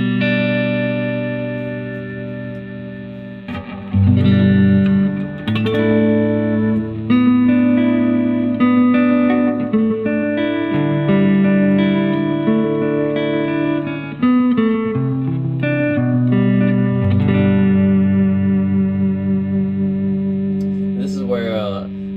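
An electric guitar through a Maxon AD9 analog delay pedal plays a sustained, warm melodic line with echoing repeats trailing each note, loud and close, with no talking.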